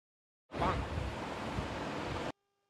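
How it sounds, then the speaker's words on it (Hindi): Water is poured over someone's hands for washing, a steady, close rushing splash lasting about two seconds that starts and stops abruptly. "ये लो बेटा, हाथ धो लो।"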